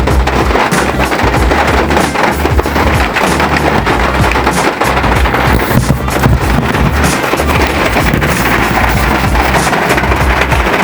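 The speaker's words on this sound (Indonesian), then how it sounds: "ini suara dari dalam kabin kalau hujan" Rain drumming on the roof of a Karimun Wagon R GS, heard from inside the cabin as a loud, dense, continuous patter with low rumbling thuds and no pauses.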